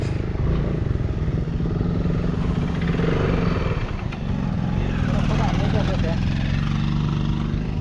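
A motorcycle comes along a road and draws nearer, its engine a steady, loud rumble over continuous outdoor traffic noise while a person talks over it.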